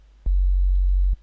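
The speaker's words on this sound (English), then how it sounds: "We're gonna use sine wave." Steady pure synthesizer sine tone, the oscillator for building a Reese bass, sounding loud and unchanging for almost a second with clean clicks where it starts and stops, and no voices.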